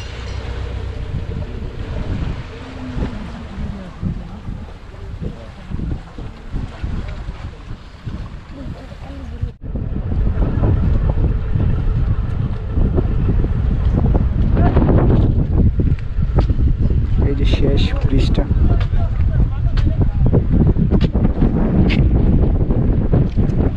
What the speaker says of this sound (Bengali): এই ট্রলারটা সন্দ্বীপ থেকে আসছে